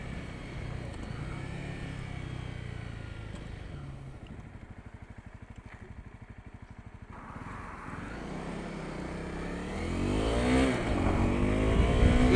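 A Honda CRF250L motorcycle geared 13/42 idles with a steady chugging rumble, then the engine rises and pulls hard, winding up in pitch and getting louder toward the end.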